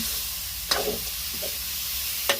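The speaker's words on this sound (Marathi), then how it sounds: "तर आता आपण त्याला मस्तपैकी मसाल्यासोबत परतून घेणार" Crabs sautéed in masala over a village wood-fired stove, a loud continuous sizzling hiss with a few brief scraping stirs standing out near the pan.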